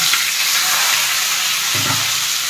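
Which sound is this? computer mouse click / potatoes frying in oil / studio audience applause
potatoes frying in oil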